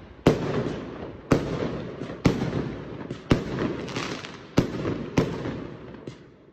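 Fireworks exploding at night, a series of about seven sharp, loud bangs at fairly regular intervals, each followed by a crackling, fading tail.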